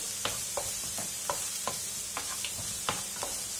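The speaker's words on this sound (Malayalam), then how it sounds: "വെജിറ്റബിൾസ് ഒന്ന് ഹാഫ് കുക്കായി വരട്ടെ. അതുവരെ നമുക്കൊന്ന് ഇളക്കി കൊടുക്കാം." Green peas and carrots fry in a pan for vermicelli upma, with a soft steady sizzle broken by regular scraping strokes of a spoon stirring them up close.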